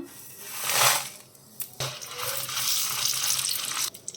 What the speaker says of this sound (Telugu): కొంచెం ఆయిల్ వేసుకొని ఎండుమిర్చి ఫ్రై చేసుకుందాం